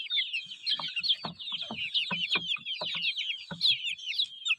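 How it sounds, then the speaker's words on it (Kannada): Farm chickens clucking continuously while drinking from a DIY bucket waterer, a dense chorus of overlapping high chatter with repeated nearby clucks throughout. "ಕೋಳಿಗೂ ಕೂಡ ತುಂಬ ಚೆನ್ನಾಗಿ ಕುಡಿತಾ ಇದ್ದಾವೆ."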